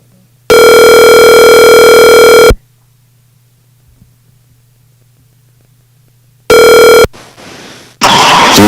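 An outgoing phone call's ringback tone sounds loud and steady for two seconds, falls silent for four, then returns briefly before a hiss of static and line noise.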